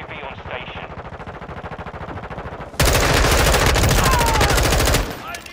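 M4 rifle fire in Modern Warfare 2 rattles out in a rapid sustained burst, loud and close, after a stretch of quieter ambient game noise, then stops abruptly.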